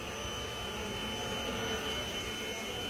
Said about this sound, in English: Today I'm gonna be showing you guys the My Genie H2O vacuum cleaner.